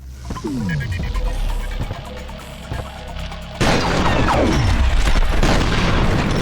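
Heavy shotgun blasts boom in the video game F.E.A.R. (2005), loud and close, with a sudden surge of roaring, crashing noise following the shots.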